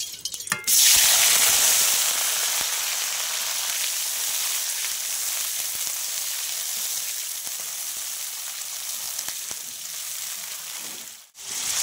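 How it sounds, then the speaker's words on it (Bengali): Paneer hits hot oil with a loud, bright sizzle that spits and crackles steadily, easing slightly before a brief dip near the end, then resuming. "তেলটা গরম হয়ে গেছে। আমি পনিরটা আগে একটু ভেজে নেব।"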